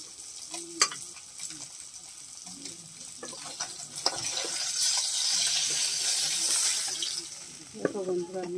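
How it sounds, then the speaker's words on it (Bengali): Bhola fish frying in oil in a wok makes a loud, steady sizzle that swells midway, with occasional sharp clicks and clatters. "আর এক পিঠে লাল করে ভেজে নিচ্ছি"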